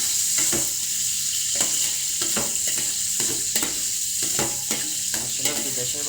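Chopped onions fry in a pan with a continuous hiss, and a spatula clicks and scrapes against the pan at a regular pace, close by with no talk.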